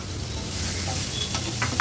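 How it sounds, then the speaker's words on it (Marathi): Onion dropped into hot oil in a pan for tempering, giving an immediate loud, close, continuous sizzle with a few stirring scrapes near the end. "आता आपण फोडणीला हा कांदा घालतोय"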